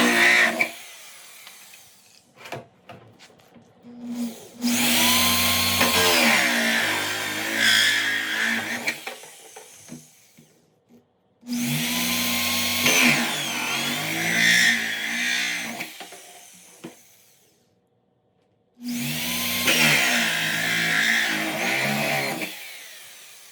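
A power drill fitted with a hole saw bit cuts into a blue plastic barrel in three loud grinding bursts, each several seconds long and separated by quiet pauses, with short whirring spins between.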